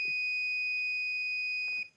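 Buzzer alarm of an HW072 flame sensor module sounding on detecting fire, a steady piercing electronic tone held loud and close for nearly two seconds before cutting off, with no talk.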